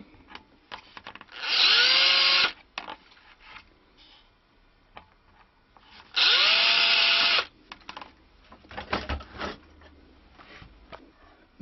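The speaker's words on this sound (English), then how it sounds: "It's also drilled out." A power drill bores a hole into a wooden stick dulcimer in two loud bursts of about a second each, with a high whine. Quieter handling clicks and knocks come between the bursts.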